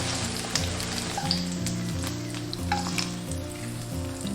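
Steady frying sizzle from a pan, a dense crackling hiss that runs without a break, with low hum and faint scattered pops underneath.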